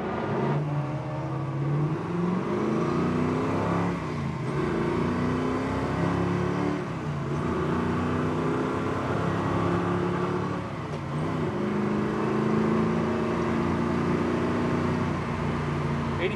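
A 1969 Chevrolet Camaro SS with a 396 engine accelerates on the road, its V8 rising in pitch through several gear changes, loud and steady from inside the car.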